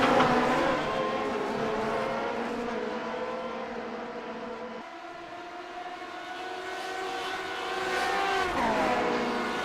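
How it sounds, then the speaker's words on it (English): A Grand Prix Legends race car in the iRacing simulator at Monza, heard from the cockpit: a loud continuous engine whine holding steady, dipping on a gear change midway, then rising again as it revs up. "you'll hear the sound from the perspective of my car"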